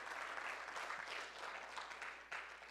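A church congregation gives a hand clap of praise, a continuous wash of many hands clapping, somewhat distant and soft, holding steady with slight swells.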